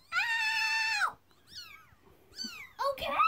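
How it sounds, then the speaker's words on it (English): Baby kittens meow in several high, drawn-out cries, one long call followed by shorter ones, close and fairly loud. "We had these kittens right now."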